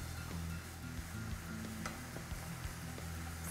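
Eggplant sautés in olive oil in a pan, giving a soft, even sizzle with faint occasional crackles, quiet and close with no talking.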